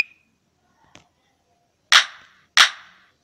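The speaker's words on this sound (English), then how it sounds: "Import this clap." A drum-machine clap sample in a mobile beat-making app is triggered twice, two sharp bright snaps about half a second apart, after a faint tick and a small click with near silence between.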